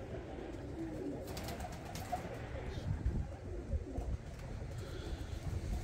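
Breeder pigeons cooing in a loft in Bradford, UK, a steady low murmur of coos running throughout with faint rustling in the background.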